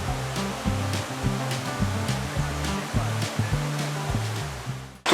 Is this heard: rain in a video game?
no